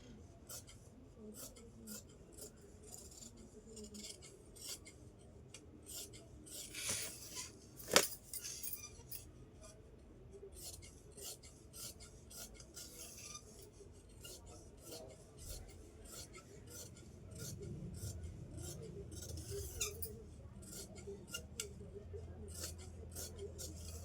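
Scissors snip through blouse fabric during tailoring, making soft repeated crisp cuts with faint rasping and rubbing of cloth. The sound is close but very quiet, with an occasional light clink.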